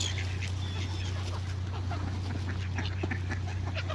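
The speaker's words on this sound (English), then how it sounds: "let's see if I can feed this duck on the quayside" A duck quacks on a canal quayside, several faint scattered calls over a steady low hum of ambient noise.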